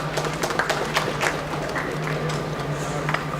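A conference audience at a tea and coffee expo applauds a speaker with steady, dense clapping throughout. A low hum runs beneath the crowd.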